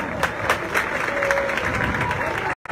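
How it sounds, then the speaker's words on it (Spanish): Crowd applause for a school marching band at an institute event: dense, steady clapping throughout, fairly close, under a speaker's voice, before breaking off abruptly near the end. "Un aplauso para ellos,"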